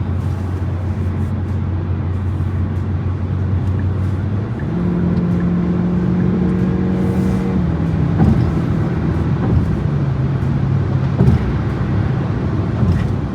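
Steady engine and road drone from a 2025 Kia K4 GT Line with its 1.6 turbo, heard from inside while driving, the engine tone stepping up and shifting as the car accelerates, continuous and fairly loud.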